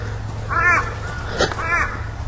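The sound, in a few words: crows cawing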